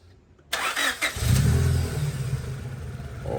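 A Honda Civic EG hatchback with a B16A engine cranks briefly and fires up, settling into a loud, steady idle close by with no talking.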